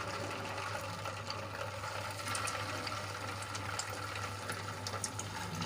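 Gujarati suji and raw potato snack frying in lightly heated oil in a kadai, a steady dense sizzle and hiss with scattered crackles throughout, no talking.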